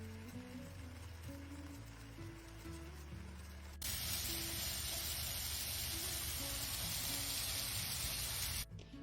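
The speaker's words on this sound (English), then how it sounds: "Searing the peppers in the marinade and 1 teaspoon of butter" Bell peppers hit a hot pan with marinade and a teaspoon of butter and burst into a loud, steady sizzle that holds for several seconds after a quieter lead-in with background music, ending abruptly.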